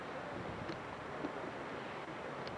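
Wind gusting steadily by the Kasilof River in Alaska, a broad constant rush buffeting the microphone with no talking.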